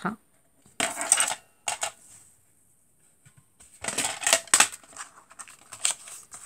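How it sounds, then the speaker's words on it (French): Scissors cut through craft paper while trimming a piece for a handmade mini album, with two short snipping bursts early and a longer run of crisp cuts later, close and fairly loud with quiet gaps between. "On va venir le couper à 8 cm."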